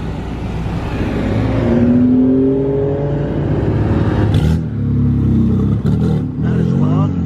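Loud BMW engines rev and roar as cars drive past close by at a car meet, the pitch rising and sweeping, with a steady rumble throughout and no talking.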